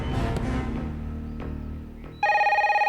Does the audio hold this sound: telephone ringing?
yes